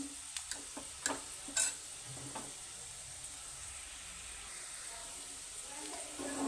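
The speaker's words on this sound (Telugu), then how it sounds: "పప్పుకు పోపు పెట్టుకుందాం" Tempering spices for tomato dal sizzle quietly in hot oil, a faint steady hiss with a few light crackles and ticks near the start, no voices.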